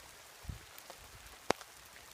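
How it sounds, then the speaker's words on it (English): Rain falling outdoors in Tampa, Florida, during a spring bike ride: a few sparse, faint droplet taps over a soft, quiet background hiss, with no voices. "It's be raining, man."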